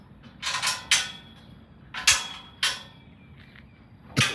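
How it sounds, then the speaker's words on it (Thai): A wrench turns a bolt on a boat ladder being assembled for a fishing boat, giving a handful of sharp metallic ratcheting creaks in separate bursts with short quiet gaps between them. "ประแจก็เหลือใช้ตัวเดียวแหละทีเนี้ยก็ควงไปเลยนะครับ"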